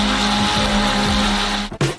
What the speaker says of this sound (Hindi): हम इसे एक ब्लेंडर के साथ अच्छी तरह से बीट करेंगे।